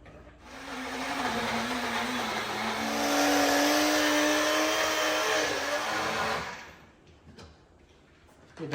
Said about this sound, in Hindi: तो अब मैं इनको पीस लेता हूं सबसे पहले। तो मैंने इस मिक्सी का यूज किया है।